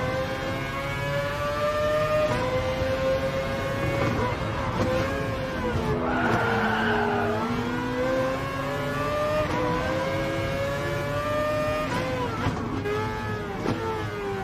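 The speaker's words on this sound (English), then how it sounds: "you can hear the gears shifting, bro. That's fire, bro. You can hear the exhaust in the back." A race car in a PlayStation 5 racing game revs steadily, its engine pitch climbing and dropping through gear shifts, with exhaust rumble throughout; the game sound plays continuously and fairly loud.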